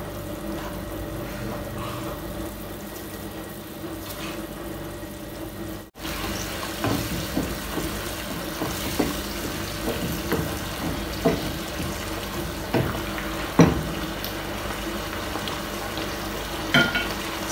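Small pieces of asparagus fry in butter in a pan, a steady crackling sizzle with occasional louder pops and stirring clicks, close and continuous with no voices.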